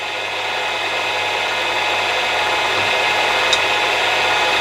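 A lathe takes a light 0.2 mm depth of cut while machining a quick change tool post, a constant, loud broadband hiss and hum of the spinning machine with no break or speech.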